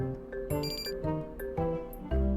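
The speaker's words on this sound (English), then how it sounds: "that's an alarm I set." A phone alarm in a video game chimes in a repeating melodic ring of bright electronic tones, steady and fairly loud over low background music throughout.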